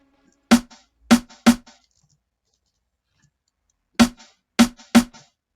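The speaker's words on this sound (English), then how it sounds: "Then I also have a shaker that goes like that." Two groups of three crisp shaker hits from a sample in a Gqom beat, each short and dry with a faint tail, with a long silent gap between the groups.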